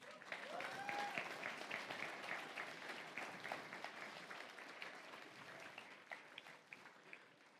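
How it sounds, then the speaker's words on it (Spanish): A church congregation applauds during a Sunday service, a fairly quiet, steady wash of many hands clapping that slowly fades toward the end, with scattered sharper claps and faint voices mixed in. "Dale un fuerte aplauso al Señor."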